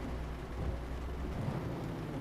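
Steady rain and low rumbling thunder fill the background during a drive in Euro Truck Simulator 2, a dense continuous wash with no talk.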